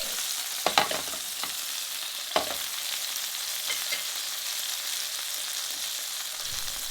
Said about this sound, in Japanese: 分厚い部分はこのように荒押して火を入れていきます。